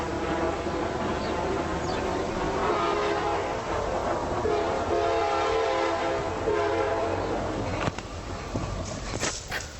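A train rumbles past close by with continuous rolling rail noise, and its horn sounds loudly for most of the passage, followed by a few sharp clanks near the end.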